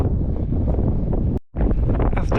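Strong wind at Laguna Colorado on the Altiplano buffets the microphone in a loud, continuous roar, broken by one brief dropout before the gusts return.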